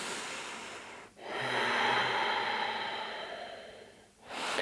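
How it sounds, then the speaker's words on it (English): Long, slow, deep breaths during seated chair yoga: a steady airy inhale-exhale rising and falling in a quiet room, with a short pause between breaths, close and fairly soft, no talking. "Long, deep breaths."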